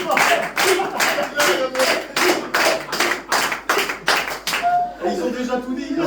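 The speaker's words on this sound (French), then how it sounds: "Applaudissez-le." A small group claps together in a steady rhythm of about a dozen beats, loud and close, fading into a brief murmur of voices at the end.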